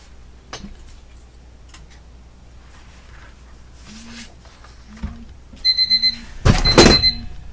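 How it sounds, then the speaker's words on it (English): An alarm clock medicine alarm set for 4 a.m. sounds near the end as a few repeated electronic beeps, followed by a louder, harsher burst, after a quiet stretch of faint ticks and rustles. "That was my 4 a.m. medicine alarm."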